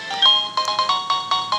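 A cell phone ringtone from the handheld game Pokemon Soul Silver chirps in a quick series of short electronic beeps, about eight pulses in fairly regular rhythm, clear and alone.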